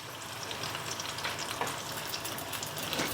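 Paneer pieces fry in a frying pan, cooked a few at a time in a small pan, giving a steady, close crackling sizzle with a continuous hiss and no talking.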